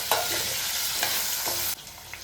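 Potatoes being stirred in a frying pan for a mixed vegetable dish, three or four scraping strokes over a steady loud sizzle that suddenly drops to a quieter hiss.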